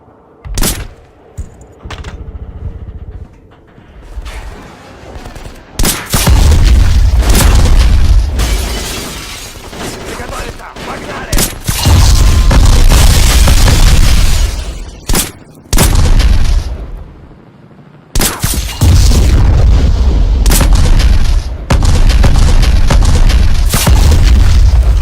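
Gunfire and explosions from the first-person shooter video game Black, with loud sustained bursts of automatic fire and booms broken by brief quieter pauses, dense and close throughout.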